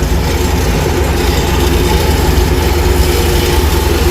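A tractor mowing hay gives a loud, steady engine drone with a heavy low rumble and constant mechanical noise, running close by.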